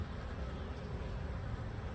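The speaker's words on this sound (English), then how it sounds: "Guard bees did not like that." A steady, dense buzz of agitated honey bees at a hive drones on without pause, low and close, like many bees swarming together.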